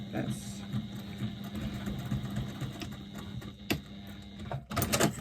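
A sewing machine stitching through the ends of fabric to join them, running with a steady mechanical whir and rattle, followed by a few sharper clicks near the end, while a voice talks over it.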